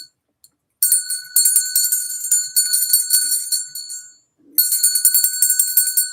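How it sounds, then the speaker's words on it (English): A ringing bell sounds alone in two loud bursts of rapid, bright repeated strikes with a short silent gap between them. "I'm going to ring the bell."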